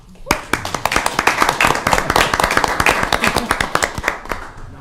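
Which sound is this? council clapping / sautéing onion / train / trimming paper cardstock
council clapping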